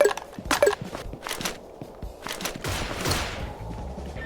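Gunfire in Pixel Gun 3D PC Edition, scattered bursts of shots at uneven intervals, some sharp and near, others softer, with light footstep-like thuds between them.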